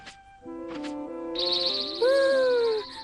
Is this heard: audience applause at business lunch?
no